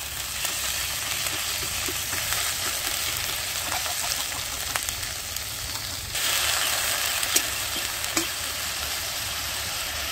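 Ginger-garlic paste with cumin paste frying in a pan of lightly browned onions for a broiler chicken curry, giving a steady close sizzle with scattered crackles and occasional clinks of stirring throughout.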